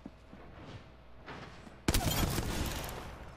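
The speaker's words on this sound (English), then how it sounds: "I am taking fire, friends." Gunfire in the video game Apex Legends begins as faint distant rattles, then erupts into a loud close burst of shots that rings on for over a second, with no talking.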